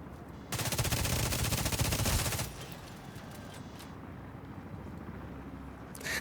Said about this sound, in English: Automated turrets detected.